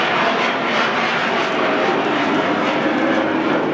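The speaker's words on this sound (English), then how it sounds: "Sounds like our Air Force is cruising across the air right above our airport here." Military aircraft pass low over an airport, a loud, broad, steady roar of engine noise that fills the whole stretch without letup, close overhead and with no voices.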